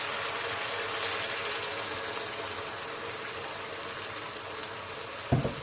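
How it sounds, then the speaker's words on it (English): Curry sauce made with base gravy sizzling in a hot pan for a vegetable madras, a steady close hissing crackle throughout, ending with a brief clatter. "We've got our pan sizzling."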